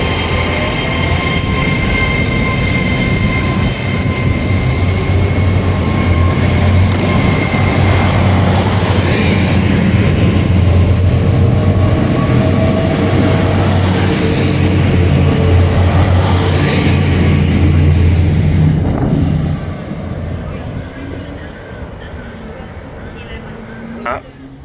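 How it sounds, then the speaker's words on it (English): A Class 800 train departs smoothly from a station on a Cross Country route, a loud sustained rumble with rising traction whine and faint wheel squeal that fades toward the end. "That was one of the smoothest departures of a train I've seen in a long time."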